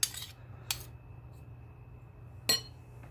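A metal spoon clinks against a bowl while mixing peanut butter cookie dough, three short, sharp scrapes and taps spaced out over a quiet, low background hum.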